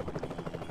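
A helicopter in Roblox Super Bomb Survival gives off a steady rhythmic rotor thrum, moderately loud and continuous through the short moment, with no talking.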